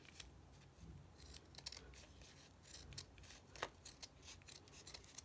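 Scissors snipping through Stamperia Shabby Rose paper in a mixed media craft session, a quiet run of repeated sharp crisp cuts in an irregular rhythm, close by with no talking.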